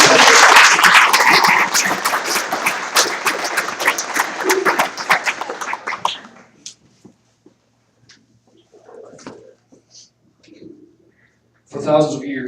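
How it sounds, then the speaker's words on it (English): Wedding guests break into a loud round of applause for the bride, dense clapping for about six seconds before fading out, followed by scattered quiet sounds, soft speech and a brief renewed burst near the end. "Let's give Breana a big round of applause."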